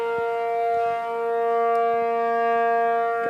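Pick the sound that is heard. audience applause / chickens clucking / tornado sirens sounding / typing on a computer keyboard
tornado sirens sounding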